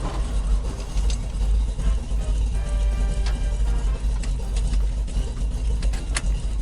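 A 1965 Ford F100 pickup engine runs steadily with a deep, low rumble, idling close by with no voices over it.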